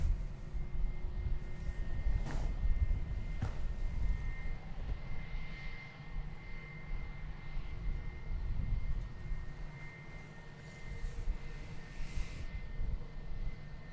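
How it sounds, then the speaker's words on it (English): An Airbus A319 airliner at DFW Airport gives off a low, fairly faint engine rumble that rises and falls unevenly, with a few brief clicks over the hum. "A319 is going to Monterrey, Mexico"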